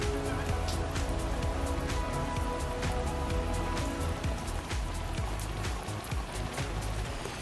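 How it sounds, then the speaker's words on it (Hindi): Heavy rain pours steadily in a Hindi cartoon story, a dense, continuous patter of drops hitting surfaces, loud and even throughout with no voices. "बारिश भी तेज थी"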